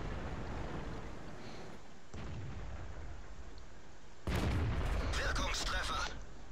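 A StuG III Ausf. G tank gun fires in a desert battle in a video game, one loud blast and heavy rumble rising over constant engine noise.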